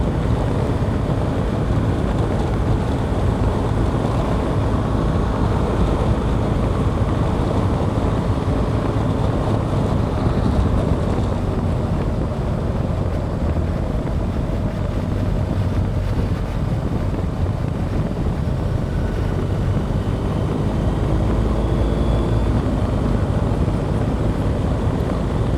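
Loud, steady wind roar buffets the rider of a BMW R1250GS motorcycle touring on the road from Dunkirk toward the Nürburgring. The rushing noise is continuous and close throughout, with no voices.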